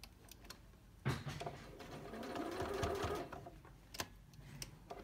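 Sewing machine stitching around a welt pocket at a longer topstitch length, a quiet steady mechanical whir that starts after a second and runs for a couple of seconds, with faint clicks around it.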